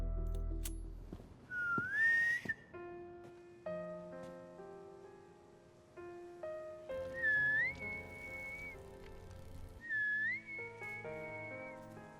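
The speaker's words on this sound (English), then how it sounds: "That's when Clint whistles their secret signal." Clint's secret signal whistle, a few rising then sustained human whistled notes repeated in separate phrases, moderately loud over quiet music or background tones.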